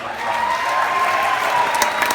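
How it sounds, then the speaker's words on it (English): Graduating seniors and guests at a Foothill High baccalaureate clap for parents and families, a steady wash of applause from a large crowd with a faint tone running through it. "Let's give your parents and families a round of"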